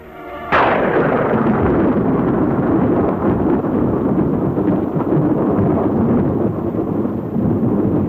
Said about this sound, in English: Seconds later, the blast wave reaches the trenches.